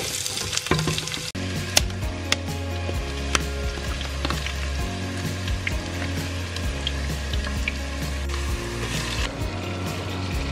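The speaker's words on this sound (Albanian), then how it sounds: "do skuqim qepën në fillim" Chopped onion fries in a pan of oil as a vegetable and meat bake with okra is prepared, giving a steady, close sizzle with occasional sharper crackles and stirring clicks.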